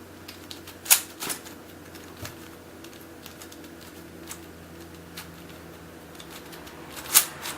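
A Limcube Dual 3x3 speedcube being turned to test corner cutting, giving soft plastic clicks and rattles, with two sharper snaps standing out near the start and end. The turning is close and fairly quiet throughout.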